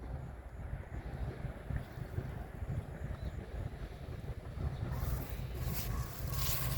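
A New Holland TT3.50 tractor pulling a six-disc plough with 26-inch discs through a field, its engine a steady low rumble from a short distance, growing a little louder and harsher near the end.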